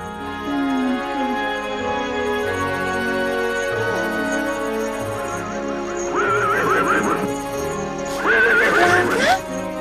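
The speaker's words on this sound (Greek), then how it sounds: "Μπορεί να είναι οποιοδήποτε άλογο, Λίζα." A horse neighs and whinnies in a dubbed animated adventure, the calls rising in excited bursts toward the end over a sustained musical background, with faint hoof clip-clops mixed in.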